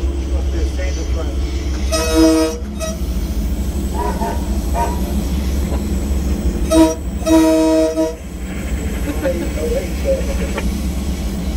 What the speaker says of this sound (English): It's got decorations on it. North Pole Express. Must be a standard train.